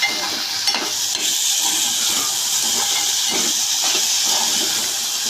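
Potato pieces fry in hot oil with a loud, continuous sizzle and hiss, broken by occasional stirring scrapes and small pops close by, and nobody speaking.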